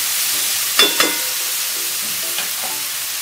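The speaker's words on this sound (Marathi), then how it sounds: "दोन मिनटं चांगला परतवून घ्यायचा आहे पालक आणि टोमॅटो," Spinach and tomato cooking in a pan, a soft steady sizzle with a few quick scraping stirs near the start and a lighter one later, close and fairly quiet with no voices.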